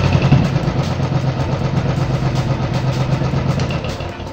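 A Royal Enfield EFI motorcycle engine idles steadily up close, a continuous low, throbbing rumble with even mechanical pulsing and no speech over it.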